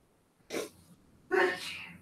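Two sneezes close by, a short one followed by a louder, fuller one, with quiet room tone between.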